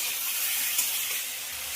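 Hot water poured onto fried spices and tomato in a pan for a fish curry with ridge gourd, giving a steady loud hiss and sizzle that eases slightly toward the end.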